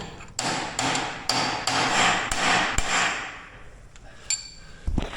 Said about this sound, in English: they have this little keeper right here that they want you to just hit in